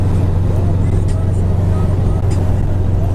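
Ride in the passenger seat of a car, with a steady low road and engine drone filling the cabin, loud and unbroken, with faint small rattles and no clear talk.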